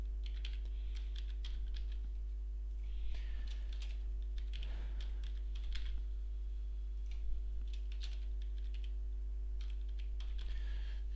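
Someone types data into spreadsheet cells on a computer keyboard, giving irregular bursts of close, crisp key clicks over a constant low electrical hum.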